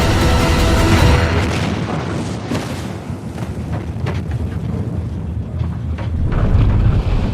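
A bomb explodes after a countdown in a film about J. Robert Oppenheimer. A deep, sustained rumbling roar fills the scene, loud and continuous, swelling and fading with low crackling texture.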